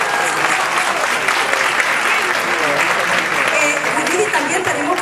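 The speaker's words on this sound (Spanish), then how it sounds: "Vamos a darle un gran aplauso a todos ustedes." Audience applause at the Golden Latin Awards 2016 ceremony, a loud, dense, steady wash of clapping from a large crowd lasting throughout.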